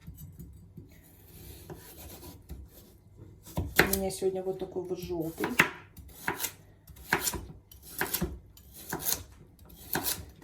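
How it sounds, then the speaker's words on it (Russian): A knife chops a yellow bell pepper into coarse pieces on a board in a home kitchen, giving a series of close, crisp cuts in irregular bursts, with someone speaking between and over the chopping. "Как видите, крупно нарезаю"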